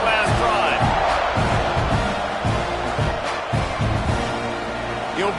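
A stadium crowd in College Football 26 roars steadily at a kickoff, with a broadcast commentator talking over it and a few sharper thumps rising from the crowd noise.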